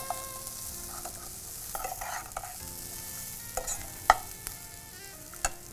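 Grated palm tuber stirred in a pan, close scraping spoon strokes over a gentle sizzle, with a few sharper clicks of the utensil against the pan.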